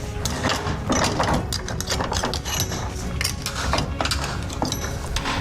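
Someone unscrews a 5-inch bench vise, giving a busy run of metallic ratcheting, clicking and clanking that is close and fairly loud, with no talk.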